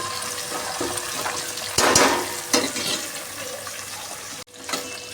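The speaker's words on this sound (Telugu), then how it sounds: "ఇప్పుడు టమాటా యాడ్ చేద్దాం. టమాటా యాడ్ చేసిన మంచిగా కలిపెట్టేస్తాం." Tomatoes go into a pan of browned onions for a vegetable biryani and get stirred, giving a steady close sizzle with a louder burst of frying and scraping as they hit the hot oil.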